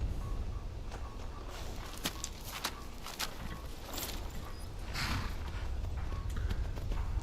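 A horse's hooves in the video game Skyrim clop in a steady walking rhythm over a low ambient bed, moderately close and unaccompanied by speech.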